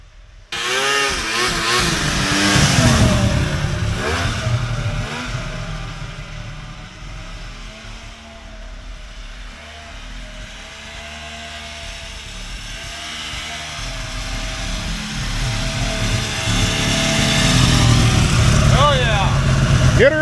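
A vintage Polaris XLT 600 triple-cylinder snowmobile engine revs hard and loud at close range, holding high and swelling again toward the end, with people shouting over it.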